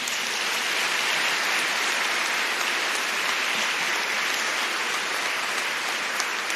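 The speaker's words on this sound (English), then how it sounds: "I believe that applause would be appropriate." Dense, continuous applause from a large crowd at a College of Europe opening ceremony, a loud even wash of clapping with no pauses.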